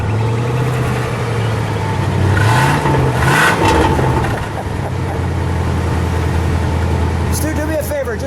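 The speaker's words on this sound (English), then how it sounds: "Let me just listen to the exhaust." A 1968 Cadillac Fleetwood Eldorado runs with its engine idling and the exhaust rumbling deeply and steadily, rising briefly with a rev before settling back, loud and close, while people talk nearby.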